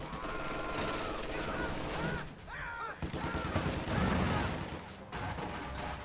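Rapid machine gun bursts and scattered gunfire in a Company of Heroes 2 match, Soviets against Wehrmacht, with booming explosions mixed in under continuous game action and a voice talking over it.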